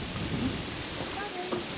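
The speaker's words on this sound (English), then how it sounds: "it's now started raining" Steady outdoor rain hisses across the whole stretch on a countryside walk between Austwick and Feizor, a broad, even wash of drops with a faint low rumble underneath and no clear voices.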